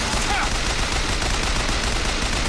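Rapid gunfire bursts and machine-gun fire in the video game Bioshock Infinite, loud and continuous throughout, dense and unbroken over a steady battle din.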